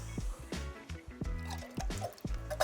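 Two tins of chopped tomatoes pour and slop into a pan, a thick wet glugging with several dripping splashes, close and fairly quiet, no talk.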